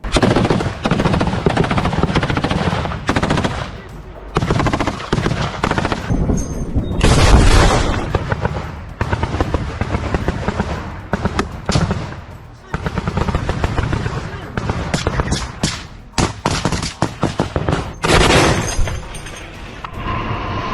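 Combat in the Russia-Ukraine war: loud bursts of machine-gun fire and heavy booming explosions, with rapid rattling volleys broken by brief pauses, continuing over about twenty seconds while voices shout intermittently.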